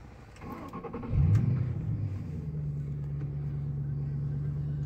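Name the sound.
2005 Ford Mustang GT engine starting and idling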